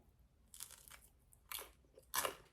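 Crunchy baguette crust being chewed close up, three distinct crisp crunching bites spaced out over quiet pauses, no talking.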